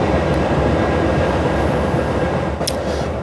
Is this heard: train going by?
yes